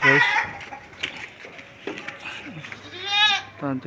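A milking nanny goat with her kid at a Karachi goat and cattle market bleats loudly near the start and again later. People talk in the background between the calls.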